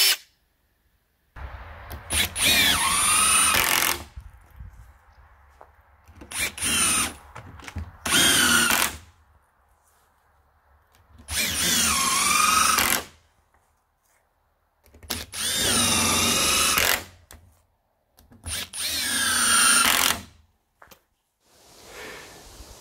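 A Hikoki cordless drill whirs in six separate bursts of a second or two each, with short quiet gaps between them, close and fairly loud against a near-silent background.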